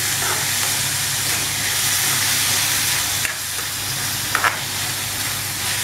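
Tomato, onion, green chili and curry leaves sauté in a pan, giving a steady, close sizzling hiss with a few soft stirring scrapes and no talk.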